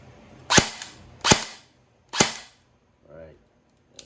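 Three sharp, loud shots from an E&C-826 DMR airsoft rifle fired in semi-auto, evenly spaced about a second apart, followed by a softer mechanical buzz and a faint click.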